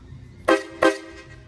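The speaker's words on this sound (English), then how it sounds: "can hear the air horns right now" Two short, loud blasts from truck-style air horns fed by onboard air tanks and an engine-driven compressor on a first-gen 12-valve Cummins, each honk bright and brassy, sounding close with a brief gap between them.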